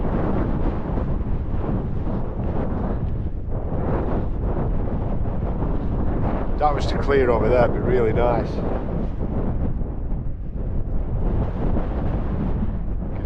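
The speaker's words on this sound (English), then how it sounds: "Still quite windy. I've measured the wind at about 23 miles per hour." Strong wind blows steadily across a mountain summit in the Lake District, buffeting the microphone with a loud continuous roar and gusts, while someone talks briefly over it.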